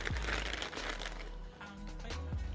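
A plastic bag from a secondhand doll lot crinkles and rustles as it is opened, a close, steady crackling that runs for a couple of seconds with no voices.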